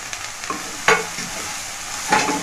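Carrots and capsicum for a vegetable soup stirred in a pan over medium flame: a steady soft sizzle with a few scraping spoon strokes, the sharpest near the start and end, close and moderately loud with no talking.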